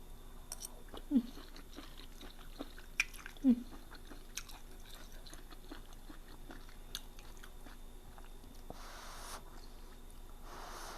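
Close, quiet chewing of boiled Mama instant noodle soup with mushrooms, with a few soft bites and slurps among faint mouth noises in an otherwise hushed room.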